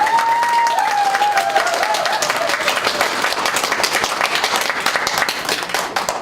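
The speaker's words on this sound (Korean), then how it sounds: "박수를 한번 쳐주세요" Steady applause from a lecture audience fills the room, dense clapping at a constant level, with a brief voice trailing off at the very start.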